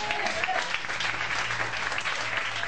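A church congregation claps steadily and loudly in sustained applause to acclaim God, with a faint voice briefly audible beneath it.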